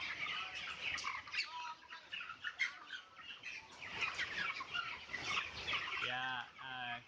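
Dense chirping and peeping of many broiler chicks packed together on a farm, continuous and fairly close, with a few louder calls near the end.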